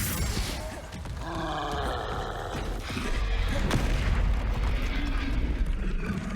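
Fiery Confringo spell blasts in Hogwarts Legacy rumble and boom amid continuous game combat noise, with dense crackling and a deep low-end roar throughout.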